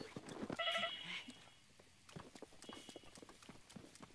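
A horse's hooves clip-clop in steady, fairly quick steps in the video game Zelda Breath of the Wild, with a brief whinny-like tone early on, moderately close and even in level.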